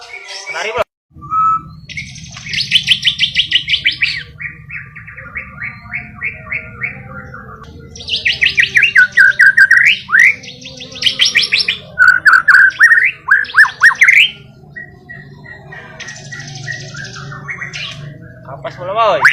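A caged canary sings in bright, rapid trilled bursts, pausing between phrases, heard close over a low background rumble with faint voices.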